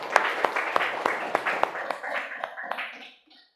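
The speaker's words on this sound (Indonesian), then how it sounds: "Iya, tepuk tangan dulu untuk kita semua." Students and a teacher in a classroom clap in evenly spaced, rhythmic claps that fade out, followed by brief talking.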